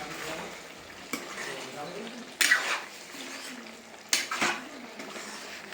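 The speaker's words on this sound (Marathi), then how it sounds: "थोडंसं पाणी टाकूया." Water poured into a pan of Bihari-style chicken curry, a close splashing pour with two sharp loud bursts as the liquid hits the hot pan, over low kitchen clatter and a speaking voice.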